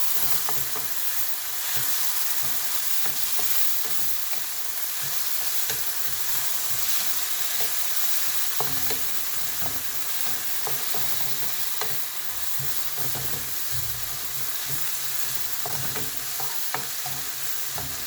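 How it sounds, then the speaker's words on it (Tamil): Tomatoes for coconut chickpea masala sauté over a low simmer, a steady soft sizzle with repeated scraping stirs and light spoon knocks throughout, close by and with no talking. "இப்போ நான் கொஞ்சம் சிம்மரில் போட்டு சாட் பண்ணுறேன்,"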